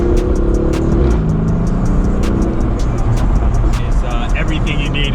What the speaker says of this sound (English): Exhaust note, as you can hear it.